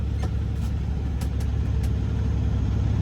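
A semi truck engine rumbles steadily at low revs close by while backing up, a continuous deep drone with a few faint clicks and ticks over it.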